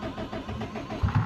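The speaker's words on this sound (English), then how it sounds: "Yeah, no, it doesn't even want to start." A Subaru WRX with a camshaft issue cranks but fails to start, giving a low, uneven churning pulse with a heavier thump near the end as the car shakes.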